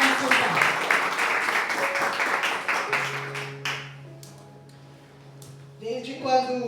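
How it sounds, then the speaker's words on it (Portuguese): Church congregation clapping in praise, a dense burst of applause for a few seconds that fades out as a sustained low tone lingers, with a voice rising near the end. "As palmas louvam ao Senhor"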